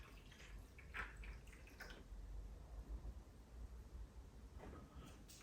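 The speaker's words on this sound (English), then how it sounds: "So you pour the water into the top slots," Water is poured into the top slots of a HumminGuru ultrasonic record cleaner, giving quiet close trickles and splashes with small drips in between, faint and intermittent.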